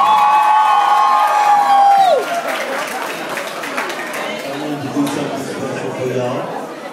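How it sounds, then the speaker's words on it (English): An audience at a live birthday show applauds and cheers, with whoops and shouting mixed into loud clapping, following a voice's held tone that drops away at the start. "Let's give a round of applause."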